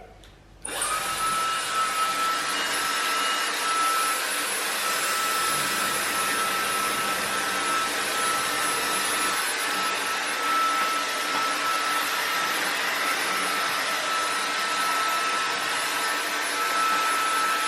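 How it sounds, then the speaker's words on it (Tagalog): A steady, loud motor whine and rush of air starts abruptly and runs continuously at close range, like a hair dryer blowing on high. "This is the hair dryer noise."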